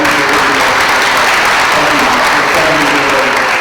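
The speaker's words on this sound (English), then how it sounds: "Can you give her a round of applause for that?" An audience at a school's State of the School address breaks into loud, sustained applause, with dense, steady clapping filling the whole stretch.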